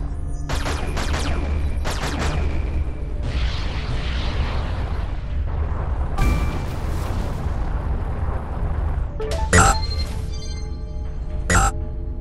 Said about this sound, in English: There is a mineable asteroid nearby. Shoot at it to extract fuel.